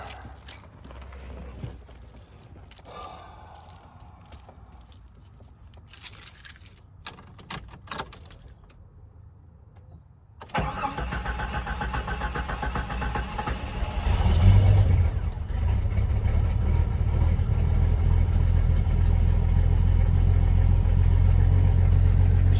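Keys jingle and rattle around a 1990 Jeep Cherokee XJ with a newly replaced starter. Then the engine catches and starts, settling into a loud, steady running rumble that swells briefly before holding.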